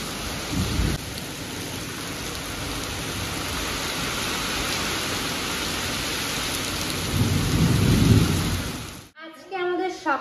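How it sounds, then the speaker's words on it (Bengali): Steady heavy rain in Ilambazar pours down with a low rumble of thunder swelling near the start and again toward the end, then the downpour cuts off abruptly into a brief quieter tail. "আজকে আবার বৃষ্টি শুরু হয়েছে দেখুন, প্রত্যেক দিন আমাদের ইলামবাজারে বৃষ্টি"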